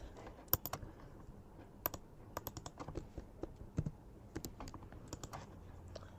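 Computer keyboard typing during Figma web design work, soft irregular key clicks at close range with occasional sharper taps, no voices.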